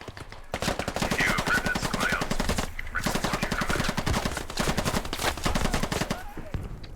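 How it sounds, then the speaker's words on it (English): An enemy light machine gun in Squad fires long rapid bursts, a dense stuttering rattle sustained for several seconds with a brief pause midway, fairly loud and close. "That's a fucking enemy machine gun."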